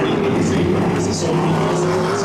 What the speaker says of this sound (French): on commence à sentir le moteur